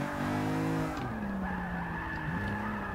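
Tires skid loudly as a Volvo 123 drift build slides in reverse through a section of track in Forza Motorsport 6, a sustained squeal over engine drone with no talking.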